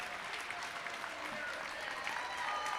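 Crowd applause at a Bucknell versus Princeton women's water polo game, a steady, fairly faint wash of clapping heard from a distance in the stands, with no voices over it.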